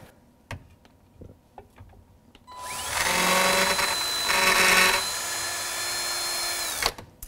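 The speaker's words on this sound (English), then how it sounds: "let's go ahead and pre-drill our holes for our mounting screws" A few scattered clicks, then a power drill spins up pre-drilling mounting screw holes in a wall oven cabinet, whining steadily for several seconds, rising briefly in pitch before winding down.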